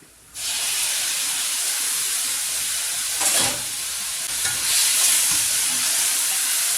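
Tomatoes hit a pan of softened, sautéed onions and garlic and fry with a steady, loud hiss and sizzle that starts abruptly and continues, swelling briefly as they are stirred.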